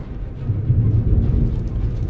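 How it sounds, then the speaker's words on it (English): Thunder in a Spider-Man video game, a loud low rolling rumble that swells and lingers, close and alone. "the thunder is seriously on board with this."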